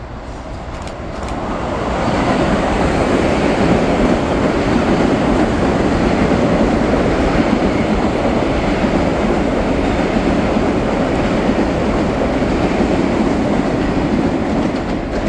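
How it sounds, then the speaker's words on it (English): An express train from Stamford bound for Grand Central roars past on the commuter line, a loud sustained rumble with rail clatter that swells within the first two seconds and holds steady. "another express train coming from Stamford roars by"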